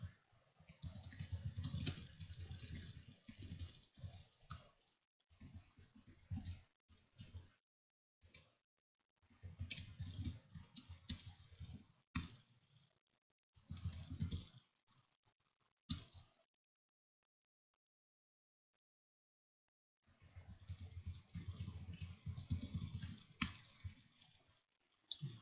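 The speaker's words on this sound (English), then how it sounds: "Before I just go typing in the options" Keyboard typing during a live stream, rapid bursts of key clicks that stop and start, with a long silent gap midway before another stretch of steady, close tapping.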